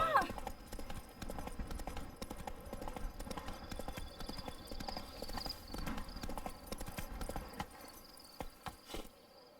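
Horse hooves clop steadily and quickly in The Witcher 3, a continuous rhythmic patter over crickets and insect buzz in an outdoor setting, moderately faint and steady throughout.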